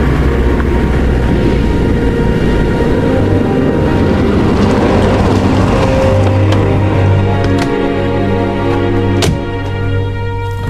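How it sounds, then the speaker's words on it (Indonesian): A car rolls into the yard of a house at night in an Indonesian radio drama, a loud, steady engine rumble held close throughout, easing slightly near the end. "Akhirnya, mobil yang dikendarai Bambang memasuki halaman rumah Pak Darmojo."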